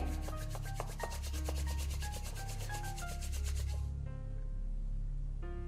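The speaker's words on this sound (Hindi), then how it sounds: "फिर अपने हाथों को थोड़ा सा रब कीजिए" Hands rub together during a yoga class, a steady, close, continuous swishing friction that lasts the whole clip with faint tones in the background and no talk.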